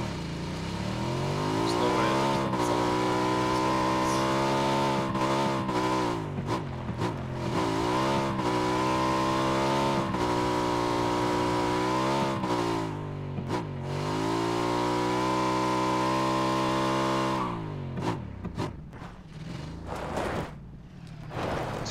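A motorbike engine in PUBG revs loudly and close, whining up and down through repeated rising and falling pitch sweeps with brief gear-change dips, then cuts away near the end into quieter background noise.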